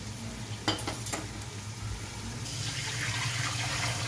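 Lassi poured into fried masala in a pan for kadhi pakora: a couple of light utensil clinks, then a steady, soft pouring, splashing liquid sound that grows slightly, close and quiet, with no talking.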